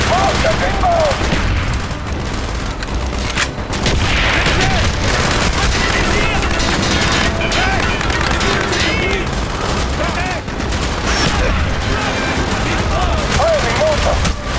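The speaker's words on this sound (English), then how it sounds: "Mortar inbound!" Mortar fire and explosions rumble in Call of Duty Black Ops amid continuous gunfire and battlefield noise, loud and dense throughout, with shouted voices mixed in.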